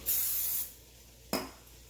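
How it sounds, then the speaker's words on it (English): A short hiss of a Pam cooking spray can spraying, followed by a second brief spritz, close up and otherwise quiet. "You're gonna use some Pam cooking spray."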